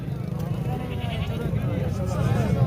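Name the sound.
goat bleating at a livestock market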